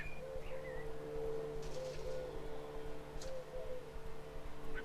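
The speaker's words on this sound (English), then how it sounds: "there's a lot of birds singing" Outdoors, a few birds call faintly against a steady low hum, with short chirps and a soft cooing note scattered over several seconds.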